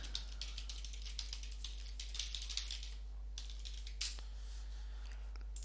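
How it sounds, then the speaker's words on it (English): Fingers tap out a quick run of light, uneven clicks on a computer keyboard, faint and close with no talking over it. "typing"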